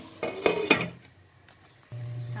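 A metal lid clanks onto a cooking pot of beef spare ribs, two sharp close clatters in quick succession, then a low steady hum of cooking underneath.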